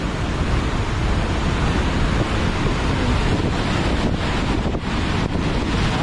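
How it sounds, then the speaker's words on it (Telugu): Water pours through a single open gate of the Nizamsagar dam in a steady, loud, broadband roar that holds unbroken throughout, with gusts of wind buffeting the microphone. "డ్యామ్లో ఒకటే గేట్ ఓపెన్ చేశారు, ఒక గేట్కి ఎంత ఉంది చూడండి వాటర్."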